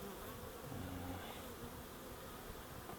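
Honeybees buzz densely at a hive entrance as they fly in and out, making a steady swarming drone with a few louder individual passes close by, and nobody speaks.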